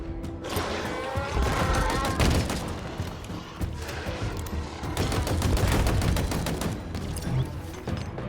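Rapid automatic gunfire and bursts of shots in Halo Infinite on Xbox Series X, dense and continuous with dull thumps, loud throughout with a voice faintly underneath.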